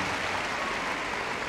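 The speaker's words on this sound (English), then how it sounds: "So speed your clap up as you go." An indoor audience at a Crufts 2015 gundog display claps steadily, a dense and fairly loud wash of applause that fills the whole moment.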